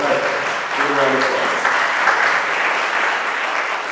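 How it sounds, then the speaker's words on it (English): A crowd at a town hall meeting in Winston-Salem, North Carolina applauds steadily throughout, a dense clatter of clapping with some voices mixed in at the start. "Give a round of"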